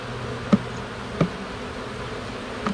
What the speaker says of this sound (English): Oh my goodness, look at all the bees.